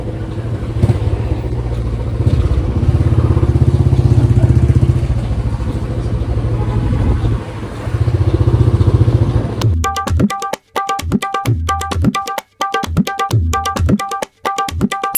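A motorcycle ridden through narrow alleys, its engine a loud, steady drone for about ten seconds, then shifting to a choppier, pulsing rhythm with brief cut-outs toward the end.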